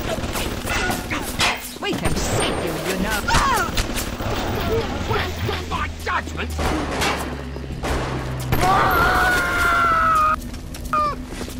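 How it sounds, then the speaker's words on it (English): Automated turret in the video game Bioshock whirring up and then firing, with bursts of shots mixed into busy game noise while someone talks over it. "I think I hear the turret spinning up again"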